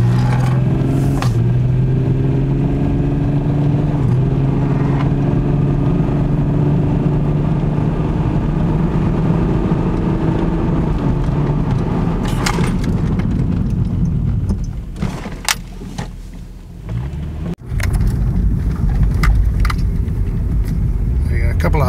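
A Volkswagen VR6 fitted with new braided brake lines drives with a steady engine drone and tyre roar, then slows hard with a few sharp jolts and clunks near the end.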